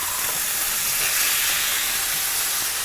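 A halibut fillet sears in a hot pan, giving a loud, continuous, even sizzle with no talking.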